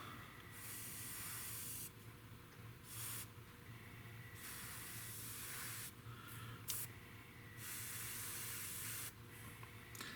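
A spray bottle hisses paint onto scale-model blast tubes for a Tamiya P-47M, a faint, close, steady spray in several long passes with short gaps.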